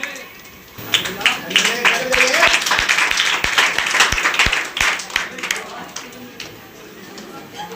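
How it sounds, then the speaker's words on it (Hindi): Audience applause at a school drama performance by class 11 and 12 students, a dense burst of clapping from a crowd that swells and holds for several seconds before tapering, close and loud, with a voice speaking over it. "तालियां बजाते रहिए।"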